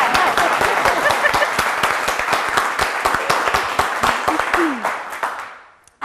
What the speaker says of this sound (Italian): Fai l'applauso, dai.